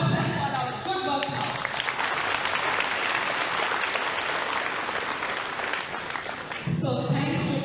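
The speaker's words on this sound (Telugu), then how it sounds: "so we all clap our hands for our self for hour good work" A roomful of apparel factory workers at a Dussehra puja claps together in sustained, dense applause lasting several seconds, loud and close, before it stops abruptly and the room noise returns.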